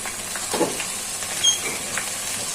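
Okra frying in a pan with turmeric and cumin powder gives a faint, steady sizzle with a few soft stirring scrapes, quiet and close, with no talking.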